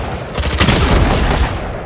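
Gunfire in the shooter game Valorant, a rapid burst of loud, close shots and booming impacts packed into under two seconds.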